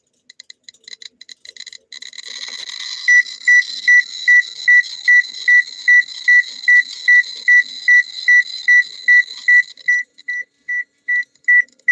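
A radiation detector alarm sounds near a radioactive rock, starting with scattered quick clicks and chirps and settling into a steady run of sharp, high, evenly spaced beeps that carry on alone and close by.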